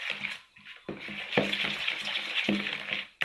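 Cake batter made with Vita flour is stirred in a bowl, giving a wet, sloshing churn with soft repeated scrapes and thumps, close and moderately loud.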